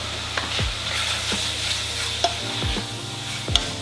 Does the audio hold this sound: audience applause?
no